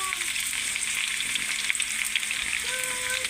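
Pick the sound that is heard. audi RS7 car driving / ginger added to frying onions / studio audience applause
ginger added to frying onions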